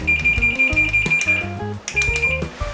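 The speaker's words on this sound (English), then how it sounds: "see if you can hear the beep when you touch the two prongs together" Loud electronic beeps and tones from a multimeter continuity test, in quick sequence, a shrill high pitch sustained in stretches with brief breaks, close and prominent.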